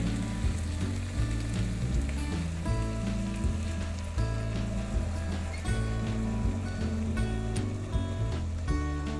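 Broth added to pasta and potatoes simmering in a pot, a steady bubbling, sizzling hiss running throughout under continuous background music.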